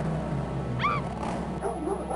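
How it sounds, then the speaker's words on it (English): A cartoon dog in King's Quest VII gives a short single bark or yip midway, over a steady game music and ambience bed, no talk. "Another dog"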